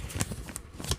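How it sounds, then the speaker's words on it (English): Paper being folded by hand for use as a bookmark, a few crisp crackling creases in quick succession, close and fairly quiet. "Sorry if you hear me folding a piece of paper."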